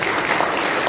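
An audience at an anniversary celebration claps in a dense, steady burst of applause, close and loud, with no break.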